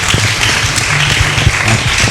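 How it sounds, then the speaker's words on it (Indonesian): A church congregation at a Pentecostal worship service applauds, a dense, lively wash of clapping with some rhythmic tapping underneath, close and sustained, with faint voices mixed in. "Berikan tepuk tangan buat Tuhan Yesus."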